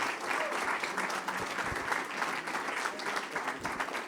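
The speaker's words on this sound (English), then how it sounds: "let's give a round of applause to our panelists." A conference audience at a panel on censorship-resistant currency claps in sustained, dense applause, fairly close and even throughout.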